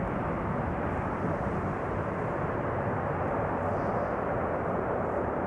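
Airliner on landing rollout at Amsterdam Schiphol with thrust reversers deployed, a steady, loud broadband roar from a Delta A350 arriving from Detroit that holds evenly throughout, with no talk over it.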